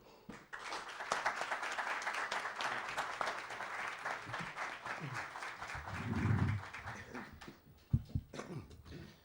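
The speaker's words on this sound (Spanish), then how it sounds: "les pido un fuerte aplauso para ceder la palabra al presentador, a don Bernabé Echevarría Bayo" An audience at a book presentation gives a burst of rapid clapping that fades out near the end, and a low, muffled voice or murmur rises briefly partway through.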